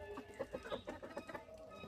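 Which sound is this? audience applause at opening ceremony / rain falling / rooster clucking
rooster clucking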